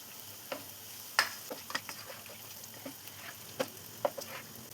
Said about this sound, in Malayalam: ഇനി എല്ലാം കൂടെ ഒന്ന് മിക്സ് ചെയ്തെടുക്കാം.